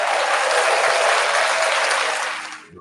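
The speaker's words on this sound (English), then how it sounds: "Clap it up with y'all for a second." A small group claps steadily and densely for a few seconds, close and fairly loud, before the applause tapers off at the end.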